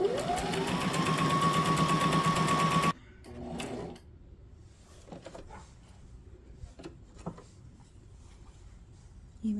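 A Brother SM2700 sewing machine stitches a small napkin in a loud, steady, rapid mechanical whir that stops abruptly after about three seconds, followed by softer clicks and handling noises.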